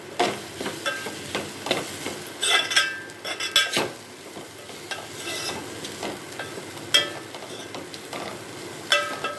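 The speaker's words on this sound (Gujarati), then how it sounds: "હવે એને આપણે સારી રીતે હલાવી દઈશું. સાથે જ કોથમીર પણ નાખી દઈશું." Crumbled bajra rotlo is stirred in a pan with spices and coriander, bringing repeated close scraping and clinking of a spoon against metal over a continuous soft sizzle.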